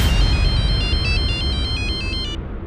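A telephone ringtone sounds loudly and close, a repeating electronic melody of bright beeping tones over a low background hum that cuts off abruptly near the end.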